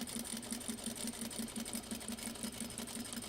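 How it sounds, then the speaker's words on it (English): A sewing machine stitches a test sample in a home sewing room, running at a steady even speed with a rapid, regular mechanical ticking and a faint motor hum, close and fairly quiet, with no talking. "let's try sewing the sample again"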